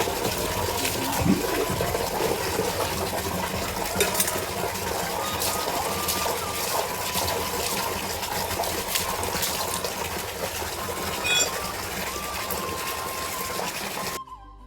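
Water runs steadily from a tap while dishes are washed at home, a continuous gushing splash with faint clinks, close and unbroken for the whole stretch.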